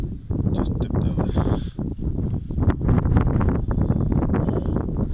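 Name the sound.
strong wind on microphone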